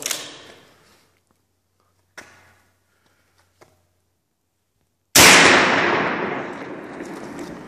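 A Sumatra 2500 6.35mm air rifle fires in sharp, separated reports: a clear crack at the start, a quieter one around two seconds, a faint tick, then a loud crack whose echo trails off slowly.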